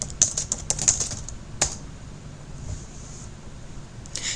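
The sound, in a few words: typing text on a computer keyboard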